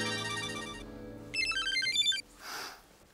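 Telephone ringtone with an electronic melody chiming in two bursts, fairly close and clear, followed by a brief breathy noise, with no talk.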